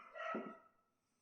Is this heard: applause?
no